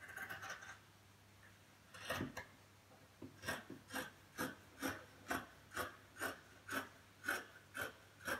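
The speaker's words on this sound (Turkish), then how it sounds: "Şimdi hemen 1 santim pay vererek 4 parça, 4 kat kumaşımı kesiyorum." Scissors cutting through four stacked layers of fabric for a flared skirt, heard as a steady series of about ten crisp, rhythmic snipping rasps, close and clear with no talking.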